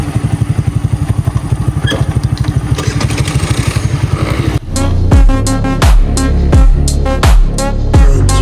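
Two mopeds out riding on a muddy road, the small engine buzzing steadily close by and then revving up and down in repeated surges, loud and with no talk.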